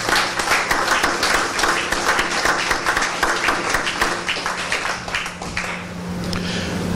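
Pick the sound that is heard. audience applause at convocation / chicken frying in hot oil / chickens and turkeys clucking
audience applause at convocation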